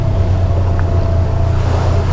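Polaris General XP four-seat heavyweight UTV on the move, a continuous low engine rumble mixed with wind buffeting, close and steady over about two seconds without voices.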